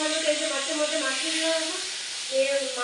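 Food fries in a pan during home cooking: a steady, bright sizzling hiss runs throughout at an even level, and a faint voice-like hum sits underneath.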